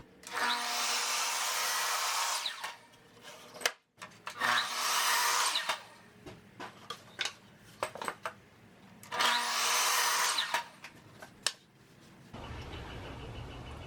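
A power saw, likely a miter saw set to 10 degrees, makes three separate angled cuts through PVC board, each a loud whining burst of about two seconds, separated by short pauses and clunks of handling.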